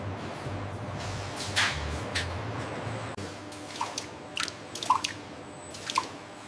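Latex drips off condom moulds on a factory line, scattered soft plops and splashes landing irregularly over a steady low machine hum, no voices.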